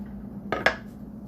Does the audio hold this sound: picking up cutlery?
yes